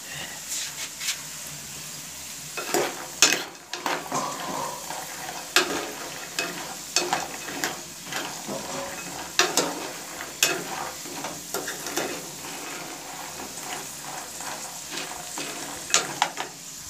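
Seeds frying and browning in ghee in a pan, a steady sizzle broken by repeated stirring scrapes and clinks over about seventeen seconds, close and fairly loud with no talking.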